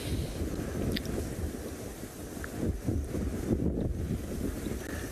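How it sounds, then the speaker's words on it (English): Loud wind buffets the microphone on an open safari in the Mara, Kenya, a constant low rumbling roar with gusts that swell and fade throughout, no voices. "And I'm sorry the wind is loud"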